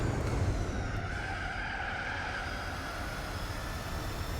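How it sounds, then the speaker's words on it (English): LM Spec 2 V8 race car in Gran Turismo 4, its engine a steady, thin drone with tire noise at sustained speed, continuous and fairly loud throughout. "the LM Spec 2 definitely doesn't sound like an actual V8 in this game"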